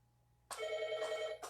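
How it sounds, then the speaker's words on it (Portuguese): Landline-style telephone ringing indoors: after a moment of near silence, an electronic ringtone sounds suddenly, one loud, sustained trilling burst, fairly close, with no talking. "Vocês me perdoem, porque eu vou ter que atender o telefone."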